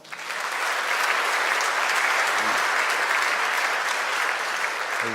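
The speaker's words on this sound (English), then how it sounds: "A round of applause for Cologne Intelligence." A large audience at the NG-DE Berlin 2025 Angular conference gives a sponsor a round of applause: thick, continuous clapping at a steady, fairly loud level from start to finish.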